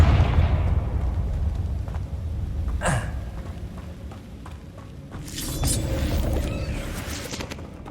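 A Confringo fire spell explodes in Hogwarts Legacy, giving a sharp burst near the three-second mark and a rumbling blast around five to six seconds over a dense game background.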